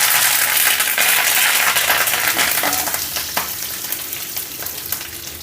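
Mustard seeds, cumin, dried red chillies and curry leaves crackle and sizzle in hot oil for a peanut chutney tempering, a dense close hiss that eases slightly as it goes on.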